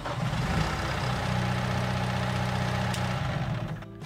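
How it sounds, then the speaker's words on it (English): A tractor engine in the Farming Simulator video game drones steadily at idle, loud and close, for about four seconds. Near the end the rumble thins out a little. "Let's start the engine."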